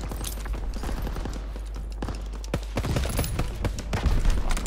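Rapid automatic rifle fire in the World War II shooter Call of Duty: WWII, a dense stream of sharp shots with bursts and pauses, loud and close, continuing throughout.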